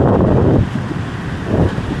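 Steady wind at a beach resort in Real, Quezon roars and buffets the microphone, dipping briefly mid-way then gusting back up, with no one talking.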